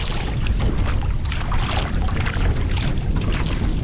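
Gusting wind buffets the microphone over choppy river water on a fly fishing trip, a loud, steady rushing wash with no speech.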